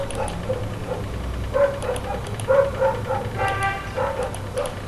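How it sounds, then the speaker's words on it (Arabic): Several dogs bark intermittently outdoors in the morning, moderately distant, a scattering of separate yips and woofs over steady background noise. "صوت الكلاب ده كمان على الصبح كده، صوت الكلاب ده"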